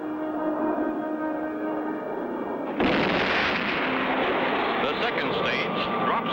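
Cartoon sound effect of a rocket's second stage separating and the third stage rockets igniting: a steady engine drone, then an abrupt louder roaring blast that continues rumbling, with music or voice underneath.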